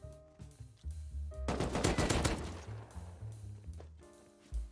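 Rapid automatic bursts from a Tommy gun in the game Rust rattle out in a dense, loud volley through the middle, with sparser shots and a lingering echo before and after.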